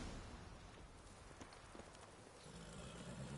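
Roach the horse's hooves clip-clop steadily in The Witcher 3, a rhythmic trotting patter buried under a dense, constant wash of game ambience, fairly faint.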